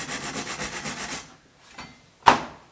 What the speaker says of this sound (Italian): Puoi usare una spazzola d'acciaio.